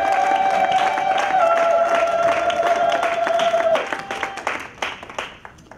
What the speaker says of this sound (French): On peut donner une forte main d'acclamation pour la gloire de Dieu.